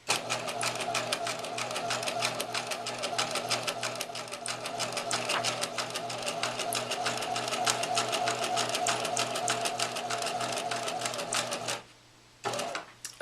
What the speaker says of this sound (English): You place the presser foot down first, insert the needle into the line, and start the machine. Go at a slow, steady speed.